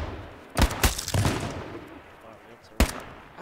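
In the online shooter H1Z1, close gunshots crack out in a quick cluster of three, then one more sharp shot follows a couple of seconds later, each a loud bang over soft background noise.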